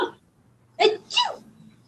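A quick, quiet sneeze sounds close by, a short sharp burst followed by a second breathy release, with faint background hum.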